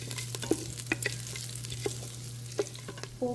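A tempering of green chili, curry leaves, ginger and asafoetida fries quietly in a pan for quinoa lemon rice, with a faint continuous sizzle and occasional soft spoon taps and stirs, close but low, with no voices.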